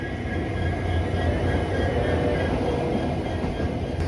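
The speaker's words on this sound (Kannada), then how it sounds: "ಪ್ಲಾಟ್ಫಾರ್ಮ್ ನಂಬರ್ 9ರಲ್ಲಿ ಬಂದು ನಿಂತಿದೆ ನೋಡಿ ಕೋಳಿಕೂಡ್ ಎಕ್ಸ್ಪ್ರೆಸ್" Kozhikode Express train standing at platform 9 of a station, a steady loud rumble of the train with low engine drone throughout, no voices.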